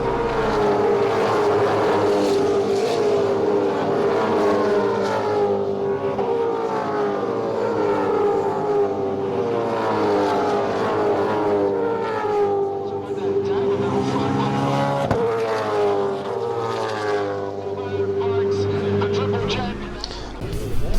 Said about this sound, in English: the thundering pack of V8s roar past up Mountain Straight